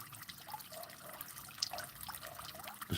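Water from a garden pond's small waterfalls and fountains splashes and trickles continuously in the sunshine, soft and moderately close, with occasional brighter drips and no talking.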